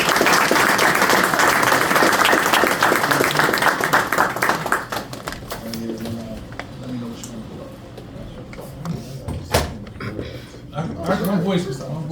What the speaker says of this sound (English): give my son a round of applause for coming to check us out today